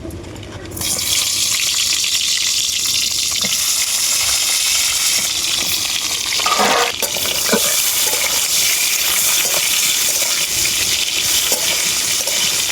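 Eggplant pieces coated in turmeric fry in very hot mustard oil in a kadai, giving a loud, steady sizzle and crackle that runs without a break from start to finish, with no voices over it.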